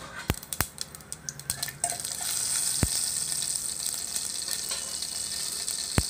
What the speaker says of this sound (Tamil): இதெல்லாம் போட்டு தாளிக்கணும்